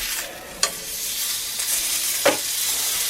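Steak sears in a cast iron pan with a continuous bright sizzle and a couple of sharp pops or spatter crackles, close and fairly quiet.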